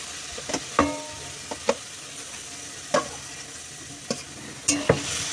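Eggplant for begun bharta stirred and fried in a pan over a gas flame: a soft constant sizzle broken by sharp spatula scrapes and knocks at irregular intervals, close up, with no speech.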